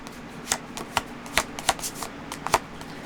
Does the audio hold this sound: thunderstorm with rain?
no